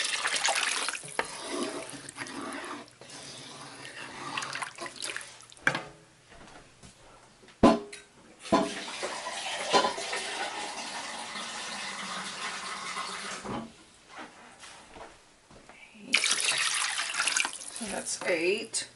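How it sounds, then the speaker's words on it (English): Water pours steadily from a tap into a pot for duck and oyster gumbo with vegetables and sausage, a continuous splashing rush with a few pauses and clanks, alongside speech. "I'm going to add 4 cups of water."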